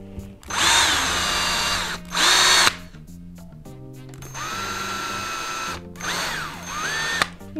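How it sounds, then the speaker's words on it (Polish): A power drill whines loudly in several bursts while pilot holes are bored into a wooden board for a small weaving loom, each run revving up and stopping with quiet gaps between. "I też najpierw nawiercimy."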